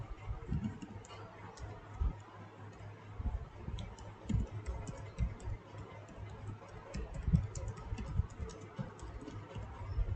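Keys clatter on a computer keyboard during SQL work, a faint, uneven run of quick clicks and taps with short pauses between bursts.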